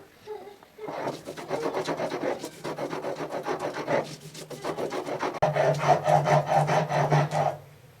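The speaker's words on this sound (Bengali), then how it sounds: "আমি ডালগুলো এবার শিলনোড়ায় বেটে নেবো।" Soaked masoor lentils ground by hand on a stone grinding slab, a steady back-and-forth rasping scrape in close, repeated strokes that grows louder and heavier toward the end.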